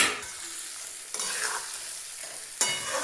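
Masvadi pieces are stirred into masala frying in oil, a soft sizzle running under a few sharp spoon scrapes against the pan, spaced more than a second apart.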